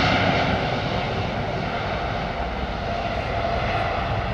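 A Qatar Airways A380 on the runway, its jet engines giving off a continuous, loud, broadband roar that stays level and steady throughout, with no voices over it.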